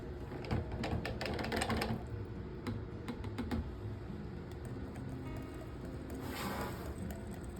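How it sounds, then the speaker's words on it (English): A whisk stirs soap batter for a watermelon soap in a bowl, giving quick irregular clinks and taps over a steady wet swishing. The clinking is busiest at the start and returns in scattered clusters, moderately close and fairly soft. "so we're going to use our whisk"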